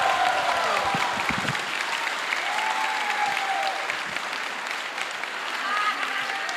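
Conference audience at a conservative political event gives loud, sustained applause that fills the room steadily for several seconds, with a few voices calling out over it.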